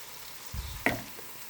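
Potatoes sizzle briefly in a curry pan, with a short soft frying burst and a single louder clink or stir, close by.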